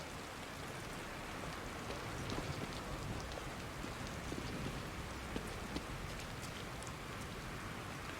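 Steady, dense rain falls in The Evil Within video game, a constant hiss of drops spattering on surfaces, with no voices over it.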